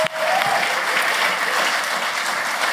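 Sustained applause from a television talent show audience, steady and full throughout with a dense crackle of clapping hands.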